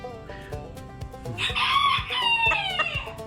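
A rooster on a Tennessee homestead clucks and calls up close, with a run of repeated, ringing throaty notes that rise into a louder drawn-out call midway, with no talking.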